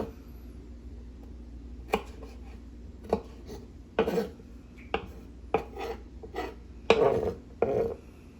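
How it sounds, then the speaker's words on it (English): A knife cuts hot pepper on a board in a series of sharp, separate taps and thuds at an uneven pace, close and clear over a quiet background, with no talk. "I'm cutting the hot pepper."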